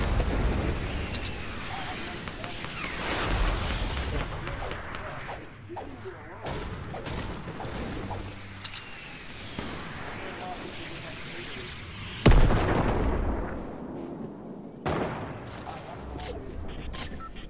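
RPG rocket explosions in a shooter video game sound as distant thuds and rumbling bursts among gunfire, with one sharper blast standing out, while players talk over the action.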